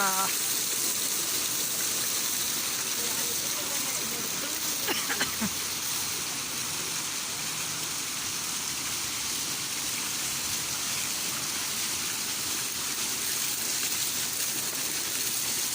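Flowing water in Quran Park rushes in a constant, loud, even wash that fills the whole stretch, with a voice talking faintly beneath it for a moment.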